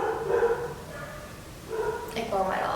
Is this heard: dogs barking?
yes